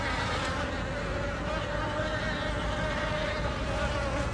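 A dense swarm of bees drones continuously with a steady, close buzzing hum, loud and unbroken throughout, with no talk over it.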